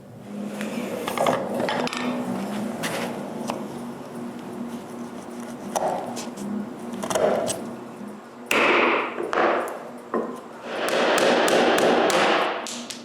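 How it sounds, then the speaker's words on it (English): Chisels of two sizes are struck to cut hand-cut dovetail sockets in wood, giving a series of close, irregular taps and dull thuds, with occasional scraping and a louder stretch of work near the end. "I use 2 different sized chisels, depending on the side I cut."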